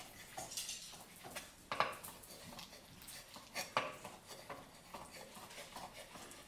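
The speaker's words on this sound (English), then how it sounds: "And then we'll chop up the egg quickly." Knife chopping a cooled 8-minute boiled egg roughly on a board, a quick series of close, light taps and scrapes with a few sharper knocks, no talk.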